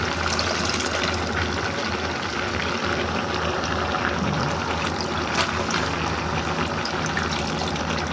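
Water pours steadily and continuously to soak freshly picked vegetable shoots and flowers in a basin, a close, even splashing wash with no talk.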